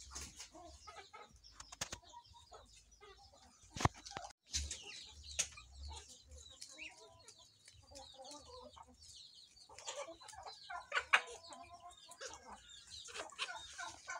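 Chickens cluck and peck in a small urban farm yard in Kampala, Uganda, with scattered close clucks and sharp calls interspersed with quieter gaps.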